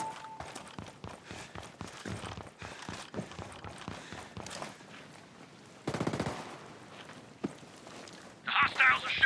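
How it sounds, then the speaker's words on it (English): Hostile gunfire in the shooter game Ghost Recon Breakpoint, a run of sharp shots and bursts at varying distances, with footsteps and gear noise between them and a louder volley near the end. "The hostiles are shooting."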